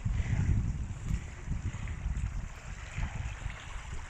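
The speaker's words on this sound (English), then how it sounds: "It's windy here, so the video's voice quality" Wind buffeting outdoors, a continuous low rumbling gust noise with uneven surges throughout, loud and close like wind striking a microphone.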